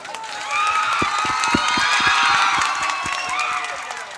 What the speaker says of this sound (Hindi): इन सब कलाकारों के लिए, अमित भाई के लिए, जेडी भाई के लिए, सबके लिए जोरदार ताली बजाइए आप लोग।